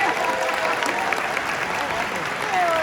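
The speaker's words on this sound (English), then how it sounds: "One more round of applause for the senior choir." Short burst of audience applause for a senior choir at a church Christmas pageant, a steady moderate patter of clapping with faint voices mixed in.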